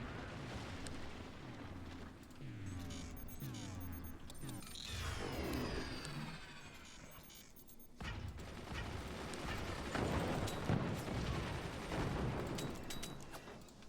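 Heavy mortars in the strategy game Forts fire in a rapid rising sequence of thumps and whistles, followed by rolling explosions and gunfire crackle, moderately loud with no voice over them.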